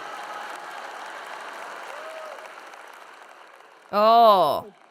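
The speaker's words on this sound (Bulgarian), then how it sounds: "Обичам тези аплодисменти от съжаление." Audience applause at a faith talk holds as a soft, even wash of clapping before thinning out, then a voice briefly breaks in near the end.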